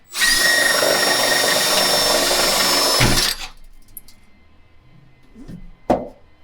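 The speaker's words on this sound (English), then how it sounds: "So now we know where to drill" A power drill whirs loudly for about three seconds while drilling holes to install hood struts on a 2022 Toyota Tacoma, then stops, followed by a few quiet knocks and a sharp tap.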